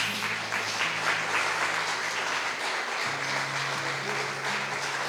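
A church congregation claps together in sustained applause during a Portuguese-language sermon, a dense, even wash of clapping with a low hum of sound in the room beneath it.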